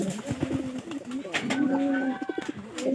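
Giribaz pigeons coo near and fairly clear, a series of soft throaty rolling coos repeating over low background murmur.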